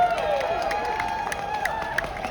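An outdoor crowd at Toronto Winter Light Festival cheering and applauding, a moderate steady wash of voices with scattered claps and whistles, a little distant.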